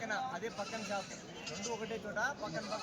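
Sheep and goats bleat at the weekly Tuesday livestock market in Kadiri, a wavering cry set among crowd voices and people talking nearby.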